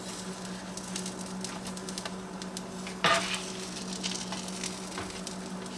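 Pesto dipper sandwiches sizzling on a grill, a soft continuous fry crackle with faint low hum and one sharp scrape or clatter of a utensil midway.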